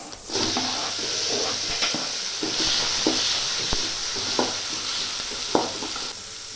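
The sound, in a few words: tomatoes added and frying in a pan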